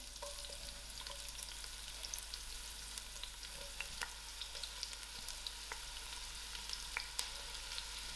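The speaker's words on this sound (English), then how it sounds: "I will allow these onions to fry till soft." Onions fry in a quarter cup of hot oil for a lamb stew, a faint, steady sizzle with scattered crackles and pops, heard alone over a low constant hum.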